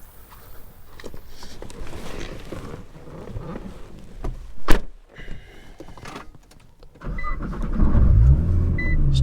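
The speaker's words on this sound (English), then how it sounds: "One touch up and down driver and passenger windows" Power windows on a 2010 Nissan GT-R with an 800 HP Switzer package whir up and down in short motor runs inside the car, followed by a louder low rumble near the end.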